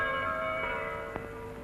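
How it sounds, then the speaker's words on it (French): Church bells of the Saint-Victor basilica in Marseille ring with sustained, overlapping tones that decay slowly, plus a couple of soft strikes, heard at a moderate distance. "les cloches de notre basilique racontent à ceux qui savent les écouter"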